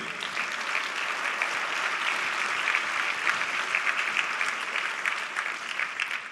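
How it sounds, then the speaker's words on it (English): Audience applause at a conference for a guest robot co-host from ABB Robotics, a sustained burst of many hands clapping in a large hall, dense and even throughout with no voices over it. "So please, a round of applause for Yumi."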